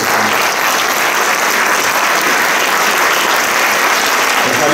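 Loud, sustained applause from an audience at a music event, dense, steady clapping filling the room without a break.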